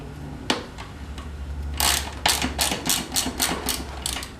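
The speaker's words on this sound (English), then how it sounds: "you grab my 50mm socket and tighten that up" A bicycle axle nut is tightened with a 50mm socket and ratchet, heard up close as a quick run of sharp, rhythmic ratcheting clicks after a single louder knock.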